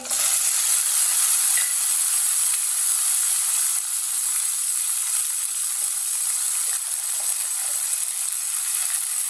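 Grated coconut and semolina roast in oil in a pan, giving a loud, bright, continuous sizzle with faint stirring rattles that stays steady throughout, with no talking.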